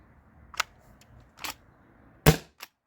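Three sharp shots from a modded T4E HDB68 CO2 shotgun running low on gas, with a fainter fourth pop at the end, spaced about a second apart and fairly close with quiet gaps between.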